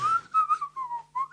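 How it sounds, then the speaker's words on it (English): A person whistles a short, clear tune alone, a few sustained and sliding pitched notes broken by brief pauses, close and fairly loud. "I taught myself how to whistle properly"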